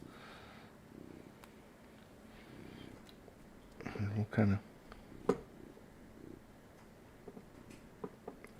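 A house cat purrs close to the microphone, a soft low rumble running under quiet talk, broken by a few louder snuffling bursts as it noses right up against the mic.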